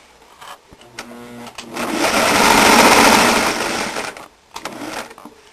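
A sewing machine stitching fabric for a garment top, a steady loud whirring run of a couple of seconds that builds and fades, with softer clicks and handling noises before and after.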